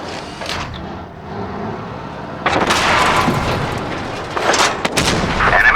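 Tank cannon fire strikes enemy armor in the Tanks Blitz video game with a Chieftain Mk.6, loud booming shots and impacts bursting over a rumbling battle background, several blasts in quick succession.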